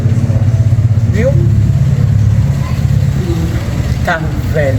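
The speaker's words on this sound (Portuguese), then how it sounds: "Carro velho." An old car engine runs in a steady, loud, low drone close by, with brief chirping sounds over it now and then.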